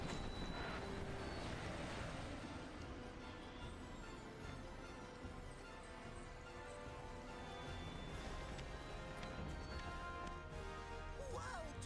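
A small cargo airplane in Final Fantasy VII Rebirth flies with a steady engine drone that holds at a fairly even level for the whole stretch, mixed with game ambience and no talking.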